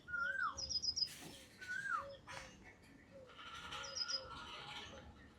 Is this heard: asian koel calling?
yes